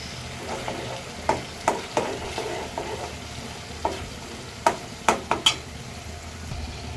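Ginger garlic paste fries in a pan for spinach chicken curry, hissing steadily while a spoon taps and scrapes against the pan in a series of sharp knocks.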